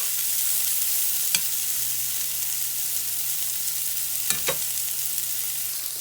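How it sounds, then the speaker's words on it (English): Sausage fries in a pan with a steady, close sizzle throughout, broken by two brief clicks of a utensil against the pan. "we're just going to let that sausage cook down"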